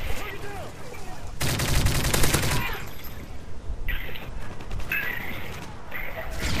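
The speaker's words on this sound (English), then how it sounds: "a random exploding barrel" An explosive barrel blows up in a multiplayer shooter video game, a loud broad burst lasting about a second amid scattered gunfire and other game noises.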